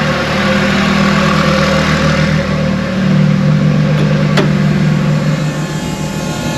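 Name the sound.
two fuel pumps whining inside a Ford Escort van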